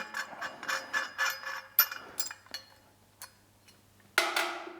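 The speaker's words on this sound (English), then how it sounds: "I'll bolt the upright back in." A ratchet spins and clicks while a rear suspension upright is bolted onto a GT40 kit car. Quick close bursts of pawl clicks come in bunches with short gaps, ending in a louder metallic clunk.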